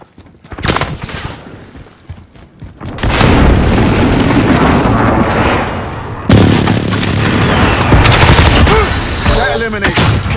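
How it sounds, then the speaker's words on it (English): A precision airstrike in Call of Duty Modern Warfare: loud booming explosions roll in, a second heavy blast hits midway, and bursts of gunfire crackle between them while a voice calls out over the din. "Enemy precision airstrike! Take cover!"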